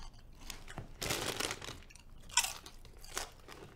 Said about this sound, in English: I couldn't hear you past the crunch of these bomb-ass chips.